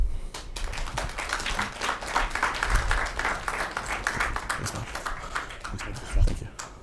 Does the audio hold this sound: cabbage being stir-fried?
no